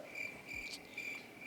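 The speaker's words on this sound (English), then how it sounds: "Crickets." Crickets chirp in steady repeated trills, soft and continuous against a quiet background with no voices.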